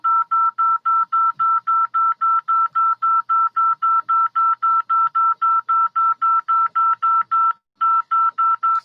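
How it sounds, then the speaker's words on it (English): A telephone keypad sends a long, even run of dialing tones, about three beeps per second, clear and close, with one short gap near the end and no talk. "Hang up and dial 9."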